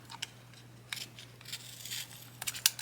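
Snipping while cutting material during a Deerc 9201e drone motor upgrade, faint scattered crisp cuts and crackles over a low steady hum, clustering toward the end.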